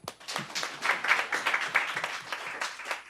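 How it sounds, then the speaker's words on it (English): An audience at a school board meeting breaking into applause, a few seconds of scattered, moderately close clapping that swells briefly and then thins out. "We can clap it up."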